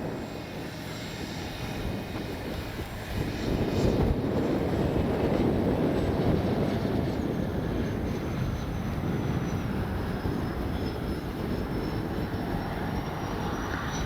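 A Freewing 80mm A-10 Thunderbolt RC jet roars past as a steady, broad ducted-fan rush that swells in loudness and then holds for the length of the flight, with no voices over it.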